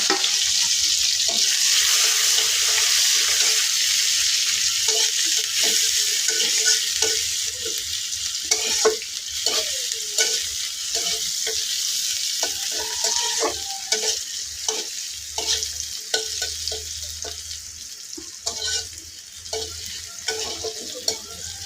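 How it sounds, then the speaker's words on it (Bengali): Chopped onion frying in oil in a pan, a steady broadband sizzle running throughout, with frequent scraping and stirring clatters from a utensil and faint tap-like water hiss in the background. "পেঁয়াজটি বাজা বাজা হয়ে গেছে"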